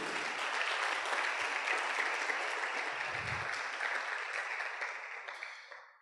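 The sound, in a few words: congregation applause in church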